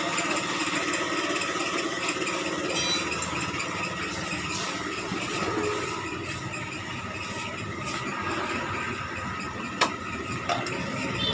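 A motorcycle engine idles while connected to an engine infusion device for fluid treatment, a steady running hum with mechanical clatter and occasional sharp ticks, no voices.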